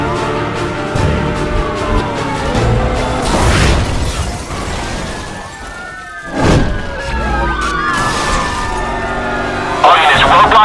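Car crashing through a police roadblock in Need for Speed Hot Pursuit Remastered, with loud metallic impacts and a booming hit amid continuous engine roar and wailing sirens, plus a sharp clatter near the end.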